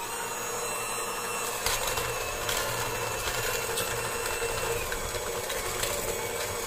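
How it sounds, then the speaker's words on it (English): An electric mixer churns chocolate chip cookie dough with brown sugar and other ingredients, giving a steady, continuous motor whir close by with no talking. "we're gonna mix up our ingredients. Alright guys, so we're almost done mixing."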